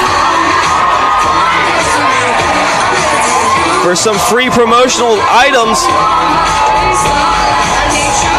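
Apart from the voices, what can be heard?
crowd cheering wildly for free promotional items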